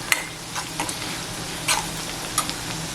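Chopped onion with salt fries in a pan for prawn keema, a continuous close sizzle broken by occasional spatula clicks and stirring scrapes.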